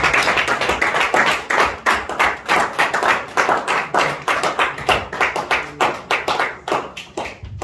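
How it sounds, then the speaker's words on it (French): Sustained applause from a church congregation, dense rapid hand claps with a slightly uneven rhythm, loud and steady throughout without any talking. "Est-ce qu'on peut donner un applaudissement?"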